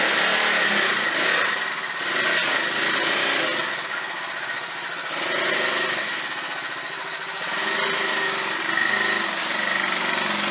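A motorbike engine drones steadily during a ride near Goalpara in Assam, with its pitch rising and falling as the rider speeds up and eases off, mixed with rushing wind for about ten seconds.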